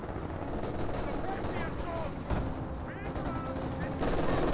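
MG42 machine gun bursts in a Company of Heroes battle, rapid sustained firing mixed with explosions, aircraft noise and other battlefield effects, dense and loud throughout with game voice lines over it.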